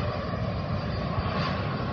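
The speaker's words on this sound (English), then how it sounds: "An airplane landing." A distant airplane coming in to land near an outdoor waterfront spot in South Boston, a steady broadband jet rumble and roar that holds evenly for the whole stretch with no voices.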